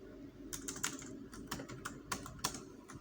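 Quick keystrokes on a computer keyboard come in short, uneven bursts, close and moderately quiet, with no one speaking.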